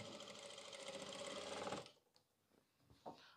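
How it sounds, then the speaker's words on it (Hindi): A sewing machine stitches a border onto a kameez, a fast steady mechanical whir close by for under two seconds before stopping, followed by faint handling clicks. "ये देख रहे हैं आप जैसे मैं सिलाई लगा रहा हूँ"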